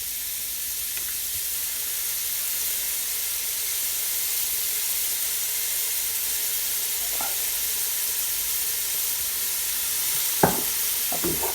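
Prawn fried rice sizzles and hisses steadily in a hot pan, a constant bright frying noise broken by a few faint utensil clinks near the end.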